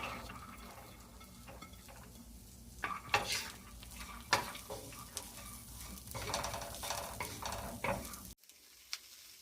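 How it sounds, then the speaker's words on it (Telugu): Chopped beans with turmeric stirred in a hot frying pan, a spoon scraping and clinking against the pan over a steady, soft sizzle, fairly close and unhurried, with no talking. "ఇప్పుడు ఇందులోకి కొంచెం పసుపు వేసుకొని కలిపి మనం కట్ చేసి పెట్టుకున్న బీన్స్ కూడా వేసుకుందాం"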